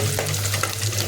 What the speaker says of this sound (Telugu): ఉల్లిగడ్డ తాలింపుకి వేసిన